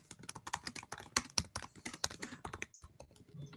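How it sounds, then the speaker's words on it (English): Rapid typing on a computer keyboard, a quick irregular run of close, crisp key clicks that pauses briefly near the end before a few more taps. "actually typing"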